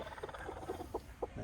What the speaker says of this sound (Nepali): म तपाईँलाई मेरा कुखुराहरू देखाइदिन्छु है